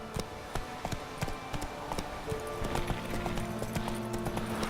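Steady rhythmic clip-clop of horse hooves in The Witcher 3, close and continuous over game ambience, with a faint tone rising in the background.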